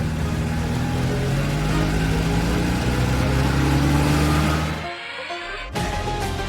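A car engine idles and pulls away steadily for several seconds, then cuts out abruptly and resumes after a short gap, fairly loud and close with no talk over it.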